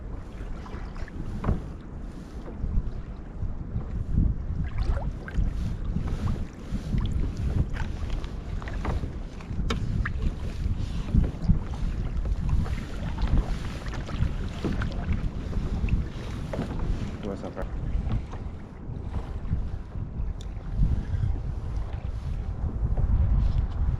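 A boat engine rumbles low and steady from a distance behind a kayak during a storm, mixed with wind buffeting and water sloshing, continuing without pause.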